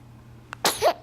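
A single quick sneeze from a baby, preceded by a faint short squeak, close and otherwise quiet.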